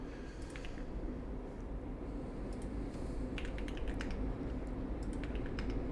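Fast typing on a computer keyboard during a Type Racer race, light irregular key clicks running steadily over a constant low hum of background noise.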